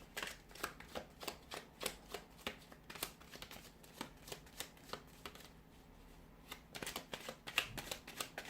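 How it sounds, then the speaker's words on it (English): Tarot cards are shuffled close up in quick repeated riffles and taps, a soft papery rhythm that pauses briefly before resuming. "Let's give the cards a shuffle"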